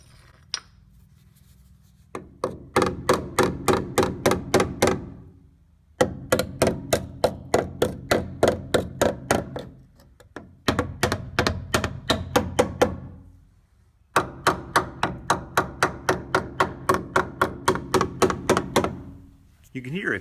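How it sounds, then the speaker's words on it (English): A hammer tapping along the rusted frame of a 1985 Toyota 4WD pickup truck in quick, evenly spaced metallic knocks, delivered in four bursts separated by short pauses, close and loud. "You can hear a clear difference in the pitch of the taps when I get past a certain point."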